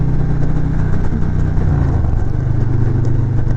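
A Harley-Davidson Road Glide motorcycle engine revs hard under throttle, a loud, continuous low rumble that rises in pitch partway through as it accelerates, with wind noise layered over it.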